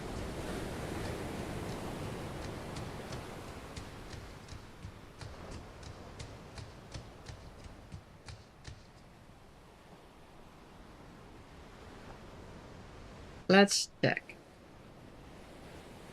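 Ocean surf washes steadily in a video game, a soft broadband rush that fades lower partway through, with light ticking clicks and a brief burst of speech near the end.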